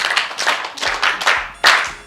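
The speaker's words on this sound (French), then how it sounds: "Est-ce qu'on peut applaudir pour Prince?" Short bursts of audience clapping at a children's show, uneven and close, a few scattered claps swelling into brief rounds with small pauses between.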